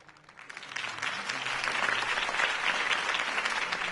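A crowd applauds after a campaign speech for Harvey Dent, clapping that swells from a few hands into dense, sustained applause, moderately distant and steady to the end.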